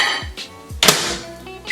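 Frozen natto is set down on a plate in a home kitchen, giving a few close, brief clinks and thunks of the container against ceramic, including one sharper knock midway.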